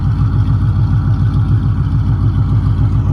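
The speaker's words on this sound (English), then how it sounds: "we'll probably give you guys a couple revs now that she's back alive" A Ford Mustang 2V V8 engine idles with a deep, rumbling, pulsing throb, loud and close, without clear revs.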